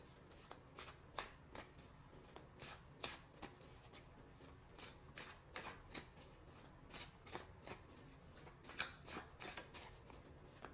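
Tarot cards shuffled by hand in a quiet room, a long run of soft, rapid riffling bursts repeating in an irregular rhythm, close and faint, with no talk.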